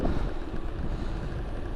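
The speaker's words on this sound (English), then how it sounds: "it is pretty windy today" Steady wind buffeting an Insta360 Go Ultra camera's microphone, a constant low rumble with gusty fluctuations throughout.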